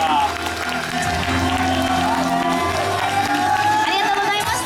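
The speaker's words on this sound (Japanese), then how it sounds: "大きな拍手でお送りください。" Outdoor stage crowd applauding and cheering for Chiba Lotte Marines hero Shohei Kato, steady dense clapping with whoops and shouts under a loud tonal backdrop throughout.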